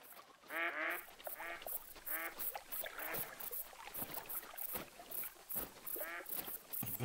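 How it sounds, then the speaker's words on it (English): Ducks quacking in the Hunter: Call of the Wild hunting game, a run of repeated nasal calls in short bursts over a steady outdoor ambience, fairly close and clear. "Duckies. These are ducks. Can hear him."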